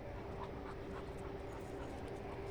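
An exhausted dog pants steadily and close by, fast rhythmic breathing over a constant low rumbling background, with no talking.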